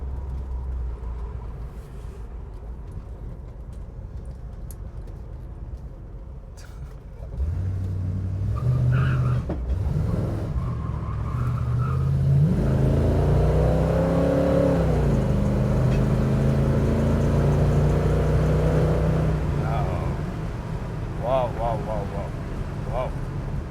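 A 1968 Mercury Cougar on its first drive revs hard and pulls strongly, its engine note climbing loudly through acceleration after a quieter idle, with some talk over it.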